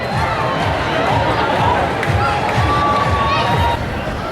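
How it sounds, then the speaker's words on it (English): A large outdoor crowd cheers and shouts continuously at a street event, a dense, steady roar of many voices with whoops rising above the babble throughout. "What are all these people cheering at?"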